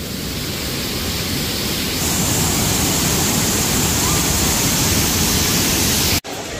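Datanla waterfall in Da Lat, Vietnam, roaring as a steady, loud broadband rush of falling water that holds constant throughout, with a brief dropout near the end.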